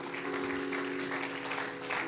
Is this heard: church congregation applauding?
yes